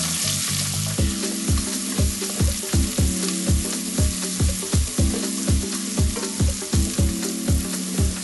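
Sliced onion hitting hot oil with smoky cardamom and cinnamon sticks in a pan, a steady dense sizzle with a regular rhythmic clatter of stirring, close and alone.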